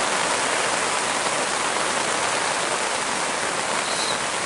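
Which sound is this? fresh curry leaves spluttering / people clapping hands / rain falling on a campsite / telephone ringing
rain falling on a campsite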